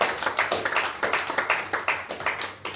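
Church congregation clapping together in praise of the Lord, a steady rhythmic beat of many hands at a lively pace, moderately loud and filling the room, with no talk over it.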